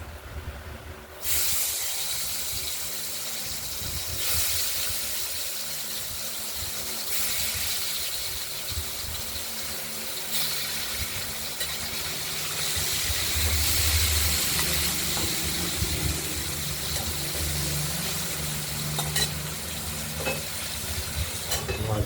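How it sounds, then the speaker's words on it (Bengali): Rohu fish pieces fry in salted oil in a wok, giving a continuous loud sizzle and hiss with occasional soft knocks and scrapes from stirring, sustained for over twenty seconds. "আর কড়াইতে আমরা তেল দিয়ে মাছগুলোকে ভাজব"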